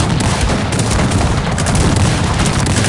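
Dense musket volleys in an English Civil War battle in the strategy game Cossacks 3, a continuous loud roar of overlapping shots and booms with no pauses.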